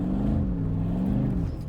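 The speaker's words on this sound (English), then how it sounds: "the V8 growing." Mercedes G55 AMG with a V8 engine holding a steady, deep rumble with a slight rise in pitch, close and continuous, parked on soft beach sand.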